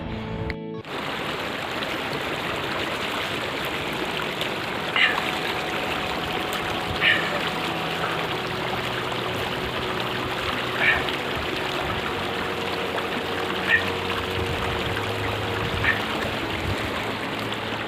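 A cold mountain stream flows along a hiking trail near Thorgu Waterfall in Skardu, Baltistan. The water rushes in a steady, broadband flow, close and continuous, with a few faint clicks on top and no speech.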